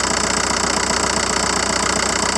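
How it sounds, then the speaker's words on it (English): A 2005 JSW diesel engine idles just after a cold start, with a loud, steady, close rumble and an even knocking pulse throughout. "helps a lot with the cold start of diesel engine"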